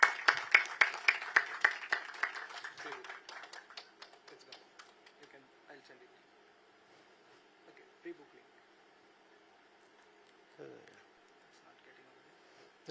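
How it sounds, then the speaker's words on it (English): A short burst of audience applause at a book launch: close, brisk clapping for about three seconds that thins out and fades into a quiet room with scattered faint sounds. "Round of applause."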